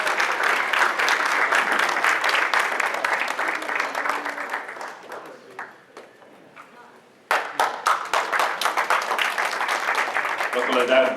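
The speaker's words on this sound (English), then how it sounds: "So let's give him a round of applause too" Round of applause from the audience at a tenth-anniversary celebration gala, dense clapping that thins and fades around the midpoint before a fresh loud burst returns and holds to the end.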